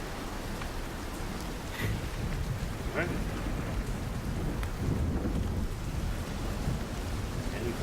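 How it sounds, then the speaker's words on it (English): Steady heavy rain falls through a thunderstorm, with low thunder rumbling underneath and a few sharper cracks. A person speaks briefly over the downpour. "It's thundering and lightning"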